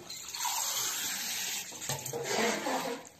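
Water poured from a small glass onto homemade egg noodle dough, a steady close trickle and splash lasting a few seconds before it tapers off, with no talking.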